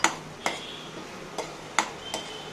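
Crushed spices going into tomato paste and being stirred: a few sharp, close metallic taps of a spoon against a pan, spaced irregularly over a quiet background.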